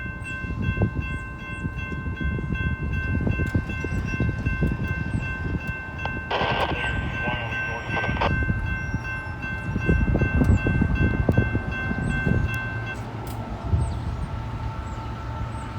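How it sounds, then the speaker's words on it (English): Long freight train hauled by four locomotives rolls loud and steady through a railroad crossing in Glendale, wheels rumbling and clattering on the track while crossing bells ring continuously, with a brief bright squeal midway. "This train's got 4 locomotives on it."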